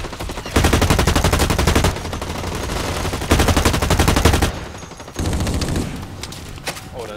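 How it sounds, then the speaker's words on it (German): A heavy automatic weapon fires in sustained, loud bursts during a Blacklight Retribution match, with rapid rhythmic shots in several long volleys separated by brief pauses. "was ballert da für eine krasse Waffe?"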